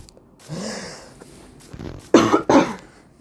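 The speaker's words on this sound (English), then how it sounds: "Sorry guys, I need to cough there." A couple of sharp, loud coughs close to the microphone, preceded by a few quieter throat sounds and breaths.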